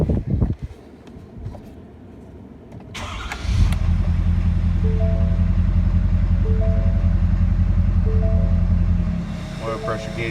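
A 2018 Ford F-350 with the 6.7L diesel cranks and fires up after a fuel filter change, then settles into a steady, loud, close idle with a low rumble, with some speech and handling noise around it.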